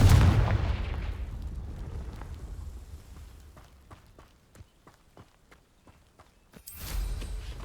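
A single Confringo fire-spell explosion in the video game Hogwarts Legacy, a loud blast at the start fading into a rumble, then light footsteps and taps and a second burst near the end.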